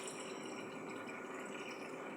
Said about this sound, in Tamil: இப்போ அதே பவுலில் ஒரு 1/2 கிளாஸ் அளவு தண்ணி சேர்த்துக்கிறேன்